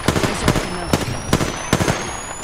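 Gunfire in the battle royale shooter Apex Legends rings out as several sharp, loud bursts spaced about half a second apart, punchy and close, with faint game sounds between shots.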